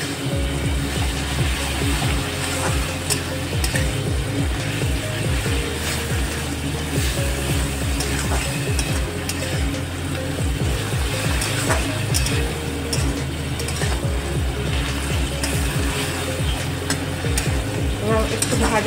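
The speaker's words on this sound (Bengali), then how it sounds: "একটু ভাজা হবে।" Fenugreek leaves with spices frying in a pan for methi dal, a steady close sizzle with stirring scrapes throughout, no voices.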